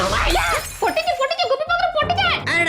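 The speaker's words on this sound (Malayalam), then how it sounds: "പാത്രം പൊട്ടിച്ച" A dish shatters with a sharp, loud crash at the start of an indoor comedy scene, then a voice talks over the quieter aftermath.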